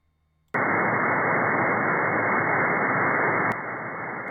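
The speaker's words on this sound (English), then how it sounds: "that's the white noise of radio" Radio static from an emergency radio scanner switches on abruptly after a short near-silence, a loud, even hiss of white noise that drops slightly in level near the end.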